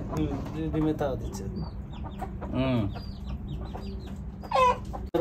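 A brooding hen sits on a clutch of eggs and gives repeated nasal clucks and short throaty calls at close range. The calls are spaced irregularly over a low murmur of background voices.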